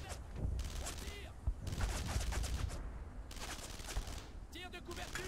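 Dense gunfire in the World War II shooter Brothers in Arms on PS2, with sustained rapid bursts and single cracks from near and far, loud and continuous, while a voice shouts over the battle.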